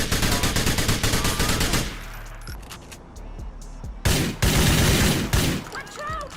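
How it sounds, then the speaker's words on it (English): A gun in GTA fires in rapid bursts from crouch spamming, dense strings of close, loud shots broken by a brief pause before another fast volley. "If you crouch spam and keep shooting, the gun actually fires way faster than it's supposed to."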